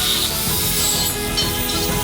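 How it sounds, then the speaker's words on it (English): A steel profile pipe is cut into segments in a workshop, giving a steady, loud, harsh grinding rasp that continues without a break. "We cut a profile pipe into the desired segments"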